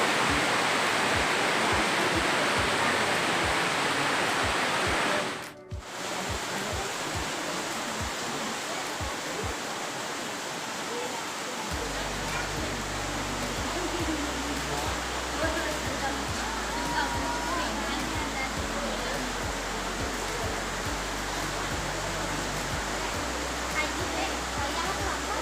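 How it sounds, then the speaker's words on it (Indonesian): Rain falls steadily as a dense, continuous hiss, with a brief dip partway through and a low rumble joining later. "Mudah-mudahan hujannya selesai, cepat reda supaya kita bisa ke Beji nantinya."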